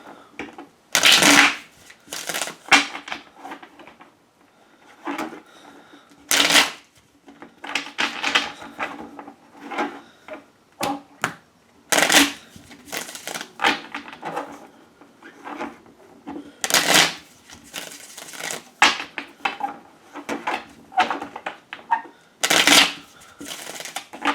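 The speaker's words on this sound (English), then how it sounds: "how long am I going to shuffle?" Repeated crisp riffling bursts of tarot cards being shuffled, close up, each burst a second or so long with short pauses and soft handling noises between.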